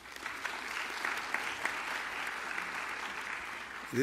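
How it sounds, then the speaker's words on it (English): Sustained applause from a forum audience, a steady dense wash of many hands clapping at moderate level that holds evenly throughout before fading at the very end. "Let's give Mr. Fisher another round of applause."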